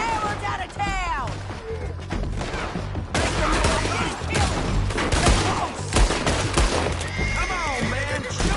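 Rapid volleys of gunfire in the Western video game Red Dead Redemption 2 crackle amid a town shootout, mixed with whinnying horses, hoofbeats and loud shouting voices throughout.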